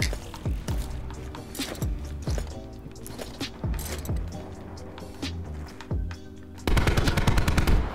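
Gunfire in a Black Ops 4 multiplayer match, repeated sharp shots in quick irregular bursts, ending with a sustained rapid automatic volley, mechanical clicks between, fairly close and without speech.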